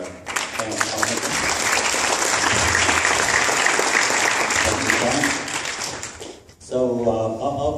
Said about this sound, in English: Let's give a round of applause to Dr. Pamela Palmater.